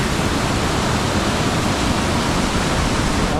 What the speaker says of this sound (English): I'm right on top of the waterfall now.